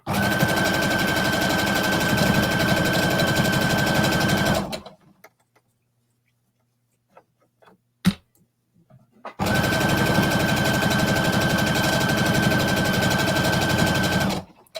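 A sewing machine stitches a seam half an inch from the side edge, running loud and steady for about five seconds, stopping in near silence with a brief click, then running steadily again to the end.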